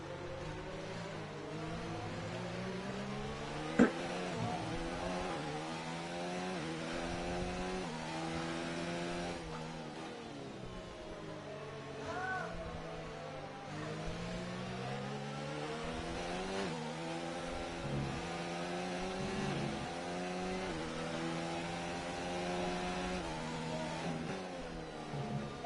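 Formula 1 race cars from a racing video game roar down the front straight at Hungary, steady high-revving engine tones rising and falling through gear changes, with a single sharp click early on.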